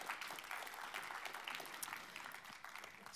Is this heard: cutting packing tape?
no